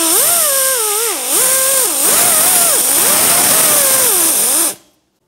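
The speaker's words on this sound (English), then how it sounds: "If you are using a pneumatic grinder of some sort, and you're gonna kick up rust." A pneumatic grinder with a wire wheel scrubs rust off a brake hub on a 2011-2016 Hyundai Elantra, a loud whining hiss that rises and falls in pitch as it bears down, then cuts off abruptly.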